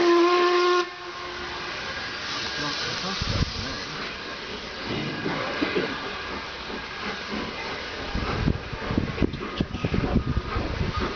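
A steam locomotive at Quainton Road, a heritage railway site, sounds a brief whistle and then sends out a loud, continuous hiss of escaping steam close by, rising in bursts toward the end.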